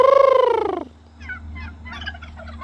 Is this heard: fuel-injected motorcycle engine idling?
no